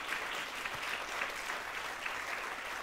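Audience at a stage show claps in a soft, distant, even patter for a few seconds, faint and steady with no voices on top.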